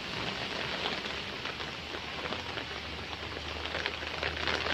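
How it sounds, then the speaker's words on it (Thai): Heavy rain falling during a windy storm, pattering on leaves and surfaces in a dense, steady hiss that stays even throughout. "นี่ฝนตกแล้วนะคะ"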